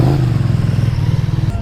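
Old Ducati Monster motorcycle idling close by, a loud, steady low engine rumble with a dry mechanical clatter, briefly alone before it changes near the end.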